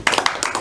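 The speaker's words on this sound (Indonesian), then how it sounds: "Tepuk tangan buat Mas Azri" Short burst of hand clapping for a student in a classroom, a few quick claps close by.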